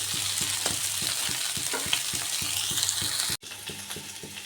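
Potatoes for a vegetarian aloo dum fry in hot oil in a pan, a steady sizzle broken by regular scraping strokes of a spatula as they are turned over, with a short pause near the end.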